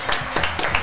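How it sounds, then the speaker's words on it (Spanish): An audience claps for a sexologist guest arriving at a live talk show, a short burst of clapping with a few sharper accents. "El aplauso para Francesca."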